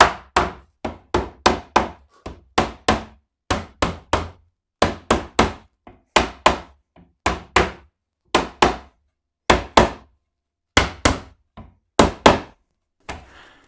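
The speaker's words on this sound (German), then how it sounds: "Jetzt schlagen wir das noch kurz fest." Hammer blows tapping wooden shelf parts together for a homemade tape-roll rack, a long series of sharp, close knocks in quick clusters of two to four with short pauses between.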